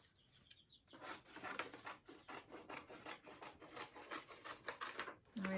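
Scissors cutting a long oval horse-head shape out of paper, a close run of quick rasping snips and rubbing strokes that starts after a short pause and carries on steadily to the end.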